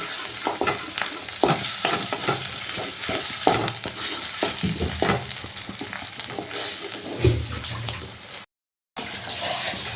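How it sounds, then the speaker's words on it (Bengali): Ginger paste masala sautéing in a pan while being stirred vigorously, with busy scraping spoon strokes over a constant sizzle and a brief cut to silence near the end. "এবার দিয়ে দিলাম এক চামচ আদা বাটা আবারও ভালো করে কষিয়ে নেব"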